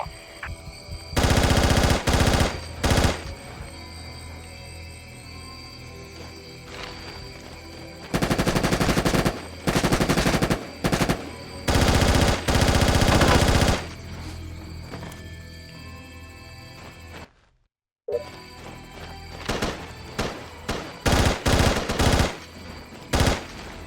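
Bursts of automatic gunfire rattle through a firefight in Socom 3 US Navy Seals, loud sustained volleys separated by short gaps, with a brief dropout of silence near the end before firing resumes.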